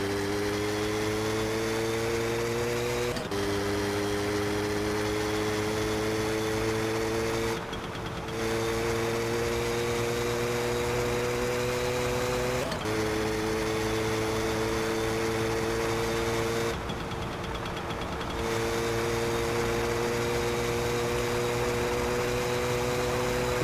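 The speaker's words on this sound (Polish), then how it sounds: "ta jazda tym motorem jest mega agresywna" A motorbike engine drones steadily in the game My Summer Car, with a loud, constant mid-pitched hum that shifts pitch at several gear changes over about twenty-four seconds, with no talk.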